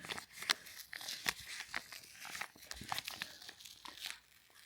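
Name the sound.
unwrapping a small gift wrapped in wrapping paper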